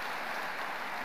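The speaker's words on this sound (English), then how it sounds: "Please give them a round of a hand. Or round of applause." High school graduation audience applauding, a steady wash of many hands clapping at once, moderately loud and continuous with no voices.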